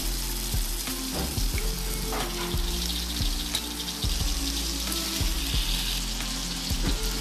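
Chicken pieces frying in a hot pan for a restaurant-style home dish, giving a steady, close sizzle with occasional clatter and tonal sounds in the background and no talking.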